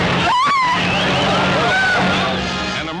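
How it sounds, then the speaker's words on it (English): A race car at the 1947 Indy 500 swerves out of control, giving a loud engine roar with a sweeping tone under busy crowd and track noise. It sounds close and builds over a few seconds, with what may be tire skid. "Trying to avert a collision, Shorty Cantlin swerves sharply and his car goes out of control."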